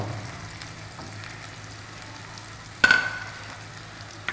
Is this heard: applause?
no